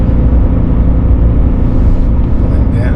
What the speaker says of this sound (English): So going uphill, we're downshifting.